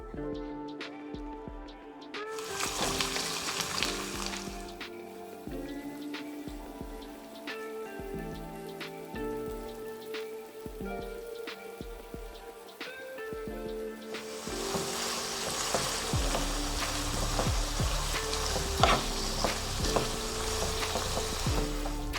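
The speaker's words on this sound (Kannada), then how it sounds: "ಇಲ್ಲಿ ಆನಿಯನ್ ಎಲ್ಲ ಒಂದು ಸ್ವಲ್ಪ ಫ್ರೈ ಮಾಡ್ಕೋಬೇಕು ನೀವು" Onions sizzle in hot oil for Mysore brinjal palya, a steady crackling fry with stirring scrapes, quieter at first and swelling into a denser, louder sizzle toward the end.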